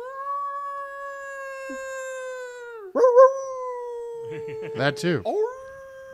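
A man imitates a dog by howling, holding one long, loud, steady howl that bends downward, then a short spoken phrase and a few more wavering howl-like vocal sounds.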